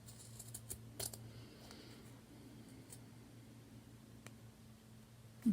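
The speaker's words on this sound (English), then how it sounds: "I'm using my scissors." Scissors snipping along a straight line through fabric pinned at the corners, a few faint, quiet cuts in a hushed room, with a slightly louder snip at the end.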